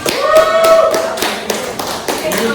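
Schoolchildren in an Indonesian classroom lesson clap for their classmates, a short burst of scattered, fairly loud claps mixed with voices.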